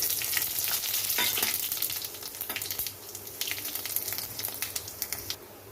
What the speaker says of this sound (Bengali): এখানে কড়াইতে সর্ষের তেল দিয়েছি এখানে দিয়ে দিচ্ছি শুকনো লঙ্কা পাঁচ ফোড়ন